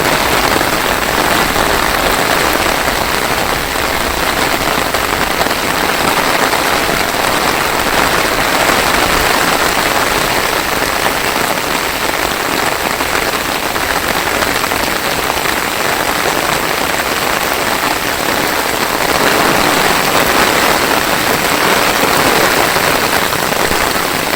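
Afternoon rain pours steadily on a village, a dense, even hiss of drops on surfaces holding constant and loud throughout with no voices.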